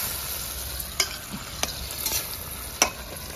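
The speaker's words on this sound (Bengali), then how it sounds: "মাছটাকে হালকা ঝোলের মধ্যে একটু ফুটিয়ে নেবো" Pabda fish bubbles in a light mustard gravy with a soft, continuous simmering hiss, broken by a few sharp clicks of a spoon against the pan.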